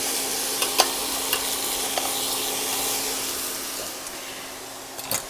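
Chicken breasts flipped in a frying pan sizzle with a steady broadband hiss, with a few faint clicks of the turning at the start and a small clatter near the end, no talking.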